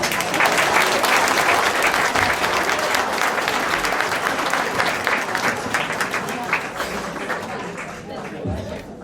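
Audience applause fills a youth concert hall, steady and loud from the start, easing slightly toward the end, with scattered crowd noise mixed in.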